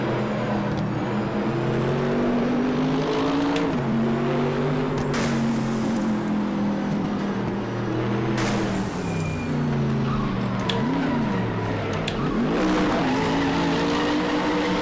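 Many race cars in RaceRoom, about a hundred on a figure-of-eight circuit, roar continuously with engine notes rising and falling as they shift, plus tire squeal and skids; a loud, dense pack of engines throughout.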